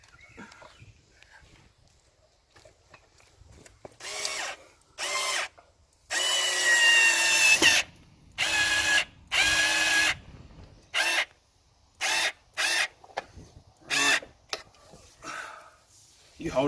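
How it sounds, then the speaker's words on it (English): A Bosch cordless screwdriver whirs in a series of short bursts, with one longer run, while a fishfinder is fitted to a boat. The bursts come close and loud with pauses between them, and faint voices sit between some of them. "Our screwdriver's working really well. I can recommend the Bosch."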